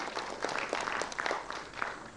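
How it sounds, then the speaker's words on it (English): Fairly faint applause from an audience at an alumni conclave, a thin patter of scattered hands clapping with a few sharper individual claps standing out. "A big round of applause for Shri Prashant Ji Jain."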